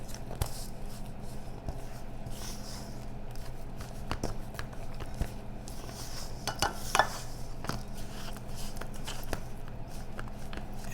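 Cranberry almond scone mixture being stirred in a bowl, a soft continuous scraping and squishing with occasional light clinks of the utensil against the bowl.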